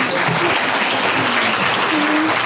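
Sustained audience applause at a meeting, loud and dense broadband clapping with faint voices and brief tonal sounds mixed beneath it.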